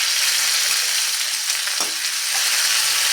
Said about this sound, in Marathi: कांदा पण छानपैकी सोनेरी रंगावर परतून घ्यायचा आहे आपल्याला